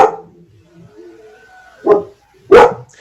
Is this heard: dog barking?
yes